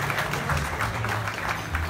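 An audience at a live Punjabi music show in California applauds in a dense, even wash of clapping, with a low steady hum from the hall's sound system underneath.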